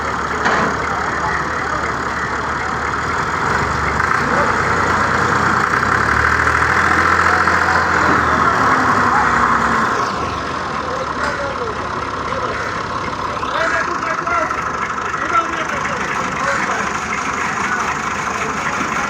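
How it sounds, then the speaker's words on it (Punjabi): A tractor engine strains to pull another stuck tractor free in a village, a steady, close, loud rumble that swells for the first ten seconds, then eases to a lower running drone with faint background voices. "ਜਿਹੜਾ ਟਰੈਕਟਰ ਫਸਿਆ ਹੈ ਉਸ 'ਤੇ ਡਰਾਈਵਰ ਵੀ ਬਹਿ ਗਿਆ ਤੇ ਜਿਹੜਾ ਟਰੈਕਟਰ ਚਿੱਕਣ ਵਾਲਾ ਹੈ ਉਸ ਵੀਰ ਵੀ ਜ਼ੋਰ ਲਾਣਾ ਹੈ।"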